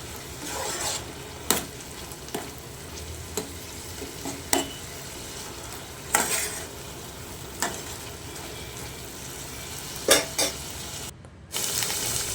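Goat kidney and liver fry in a pan as ginger garlic paste is stirred in, a steady sizzle under repeated sharp scrapes and knocks of a spoon against the pan, spaced every second or two.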